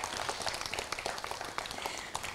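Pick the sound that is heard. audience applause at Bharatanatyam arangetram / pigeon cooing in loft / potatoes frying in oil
audience applause at Bharatanatyam arangetram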